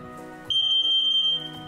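An OmniShield multi-sensor smoke detector gives a single sharp, high-pitched electronic beep lasting about a second, loud and close, over a quiet background hum.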